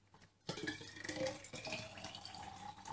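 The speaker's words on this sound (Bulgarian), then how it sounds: "И ще запълня с вода." Tap water runs into a thermos while ginger lemonade is being made, a steady close gush that starts abruptly and grows fuller as the container fills.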